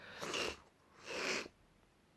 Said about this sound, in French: Je renifle beaucoup